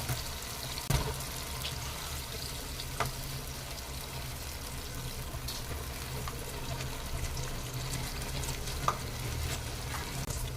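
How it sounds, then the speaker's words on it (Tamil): Ground masala paste for brinjal kuzhambu fries in a pan with a soft, steady sizzle, broken by occasional spoon scrapes and clinks while it is stirred. "பேஸ்ட்டை போட்டுட்டு அதை நல்லா வதக்கி விட்டுருங்க"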